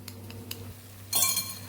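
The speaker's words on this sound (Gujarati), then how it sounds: "બે ચમચી આપણે દહીં લીધેલું એને આપણે ફેટી લેશું" A spoon whisks two spoonfuls of yogurt in a bowl for a Kathiawadi garlic chutney, giving a few light, sparse clinks followed by a brighter, louder scrape-and-rattle burst near the end, with no one speaking.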